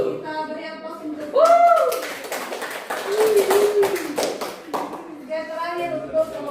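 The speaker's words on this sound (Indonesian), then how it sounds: "Kita beri aplaus untuk." Brief scattered hand clapping for a group's classroom presentation, light and close, mixed in with a voice and children talking.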